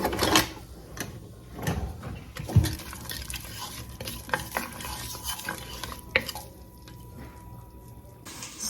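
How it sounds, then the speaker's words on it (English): Onion and garlic sauté in canola oil in a pan, a soft intermittent sizzle broken by scraping stirs and clinks of a utensil, fairly quiet and close, with no talking. "So canola oil first. I need to saute the onion and garlic."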